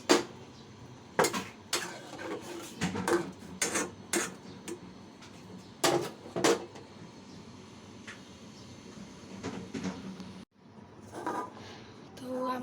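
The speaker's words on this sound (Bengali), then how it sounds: "এখন আমি পাস্তাগুলো দিয়ে দিচ্ছি" Pasta being added to a pot of boiling water with potatoes in a home kitchen, with clinks of a utensil against the pot in irregular bursts over a steady background hiss, fairly close and moderate.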